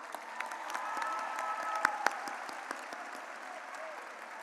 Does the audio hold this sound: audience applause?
yes